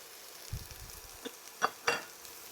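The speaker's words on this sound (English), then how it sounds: "Stir all that through so everything's coated." Onions, peppers and spices with onion powder, garlic powder, cumin, paprika and oregano stirred in a pot, a few soft scrapes and gentle clinks with a faint sizzle underneath, quiet and close, no talking.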